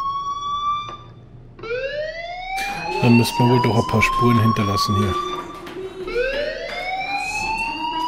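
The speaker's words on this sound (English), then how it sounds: "do you hear that fire alarm? That means you should be outside." A fire alarm sounds in the video game Life is Strange, with rising and falling siren wails and a rapid pulsing ring in the middle stretch. It plays loudly throughout while someone talks over it.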